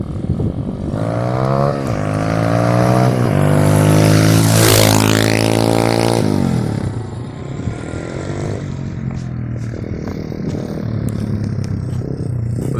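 A TaoTao DBX1 140cc pit bike engine revs loudly and close, its pitch climbing and falling in several swells over a few seconds. It then drops back to a rough, lower idle.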